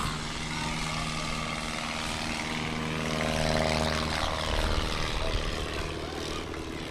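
Piper Cub light airplane with gun cases strapped on, propeller engine droning steadily at a STOL competition, a loud continuous buzz that swells slightly midway, with faint talk underneath.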